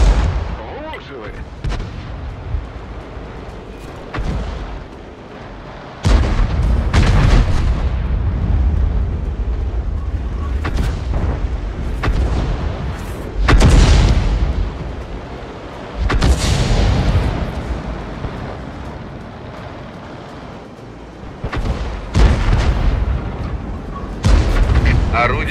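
Tank cannon blasts from an AMX 13 105 in a video game: several heavy booming shots spread across the stretch, each a loud sharp report with a rolling decay, over a low engine rumble and occasional voice lines.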